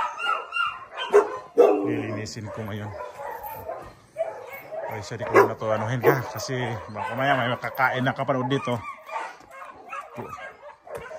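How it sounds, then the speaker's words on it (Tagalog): Several dogs bark and yip intermittently in a cluster of sharp calls, mixed with a person talking nearby. "Ang ingay ng mga aso."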